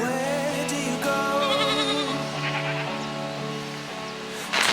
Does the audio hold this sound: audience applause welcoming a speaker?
no